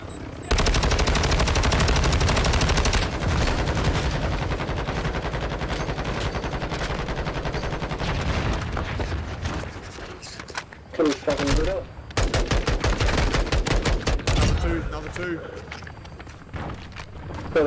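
Heavy gunfire in the video game DMZ: loud, rapid automatic bursts, nearly continuous for several seconds, then breaking into choppier volleys with brief gaps, while players shout over it.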